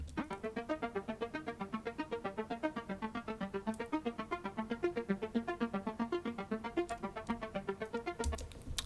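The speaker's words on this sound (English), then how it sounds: "And then this little arpeggiated section comes in." A fast, evenly pulsing arpeggiated synthesizer line plays alone in Logic Pro, bright repeating notes cycling through a pattern at a steady tempo.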